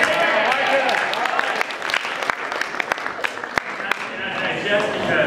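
A live audience claps loudly and cheers, a dense roar of applause that holds steady throughout, sharp clap transients standing out and crowd voices mixed in.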